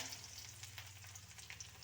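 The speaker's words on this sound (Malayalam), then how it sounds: "ഇതിലേക്ക് ഇനി വെളുത്തുള്ളി ഇട്ട് കൊടുക്കാം" Garlic dropped into hot oil already holding popped mustard seeds and ginger, sizzling in a steady, soft crackle close by, with no talking.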